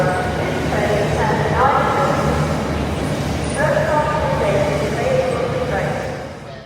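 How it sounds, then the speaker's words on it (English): A freight train rumbles past at close range, a steady heavy rolling roar with squealing metallic tones, while people talk over it. "Not required to stop here, it's a bloody freight train"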